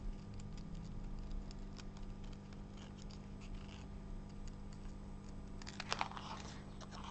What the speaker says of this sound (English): Try and move the paper around, keeping the scissors still, and you get a smoother cut.